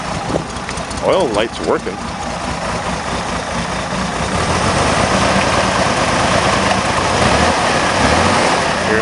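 A Chevrolet Monza engine cranks, catches and settles into a loud, rough idle that misses on one cylinder, running steadily close by after brief talk at the start.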